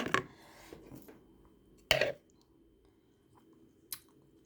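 Close, wet chewing and mouth clicks from someone tasting freshly made Thai larb, a few sharp smacks spaced apart with quiet gaps between them and no talking.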